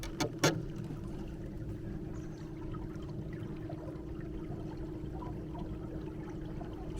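A boat's electric trolling motor runs at speed setting 3 in Desolation Sound, British Columbia, giving a steady, low, even drone with faint water wash; there are two brief clicks near the start and no talk.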